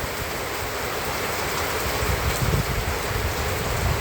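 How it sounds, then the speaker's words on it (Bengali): Heavy monsoon rain pours down in a Bangladeshi upazila, a dense, constant roar of falling water close by with no voices over it. "বৃষ্টি ঝুম পড়তেছে"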